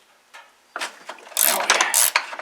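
Wrenches break loose a bolt in the steering of a Cub Cadet GT 2300 lawn tractor, with a few soft knocks followed by a run of close, scratchy ratcheting and clicking bursts that grow louder toward the end.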